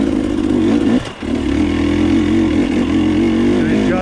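A 2020 KTM 250 XC TPI two-stroke dirt bike engine runs steadily near the microphone with a low, buzzing idle, dipping briefly about a second in before settling back into a continuous drone.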